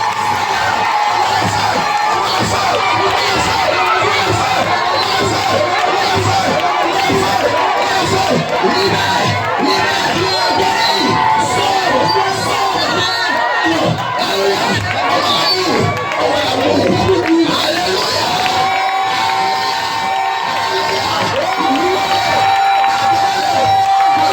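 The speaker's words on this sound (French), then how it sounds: "Poussez les cris, poussez les cris, poussez les cris." A large crowd at an evangelism gathering in Buyo shouts and cheers loudly and without a break, a dense roar of whoops and cries that holds for over twenty seconds.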